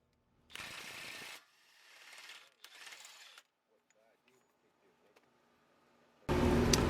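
An impact wrench loosens the axle nut on a Nissan Rogue in short, close, rattling bursts, three in quick succession, then a pause with a faint voice before a final loud burst.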